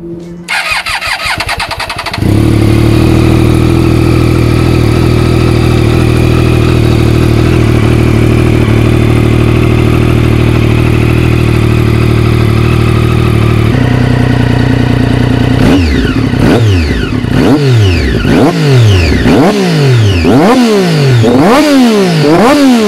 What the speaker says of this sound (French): Maintenant je vais vous démarrer le moteur pour vous faire écouter le son avec la ligne Arrow.